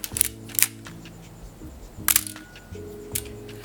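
A Nikon F2 film camera fires at 1/60 shutter speed, giving crisp mechanical clicks of mirror slap and curtain travel: a pair early on, then another firing about two seconds later, close and distinct over a low tonal background.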